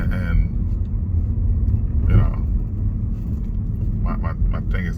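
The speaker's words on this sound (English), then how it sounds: "I'm in a car," Steady low road rumble inside a moving car, with engine and tyre noise filling the cabin beneath someone talking.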